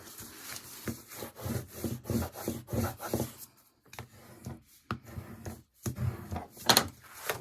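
A tool burnishes adhesive firmly onto chipboard and cardstock, giving close, rhythmic rubbing strokes in quick bursts with short pauses between passes.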